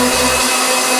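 A kitchen blender whirs steadily as it mixes batter for Hungarian sweet bread slices, a loud continuous motor drone filling the short stretch with no voices.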